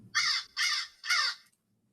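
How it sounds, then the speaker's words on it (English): Three harsh, evenly spaced caws from blackbirds, used as a radio drama sound effect, ring out loud and clear against silence. "eyes were attracted to the immense flock of blackbirds that hovered directly below me"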